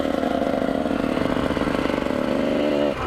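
A new Kawasaki KX 125 dirt bike engine holds a loud, steady high-revving drone close by for about three seconds, then its pitch swoops and drops right at the end.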